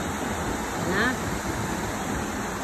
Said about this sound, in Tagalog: Maririnig mo yung ano ng tubig. Yung daloy dito.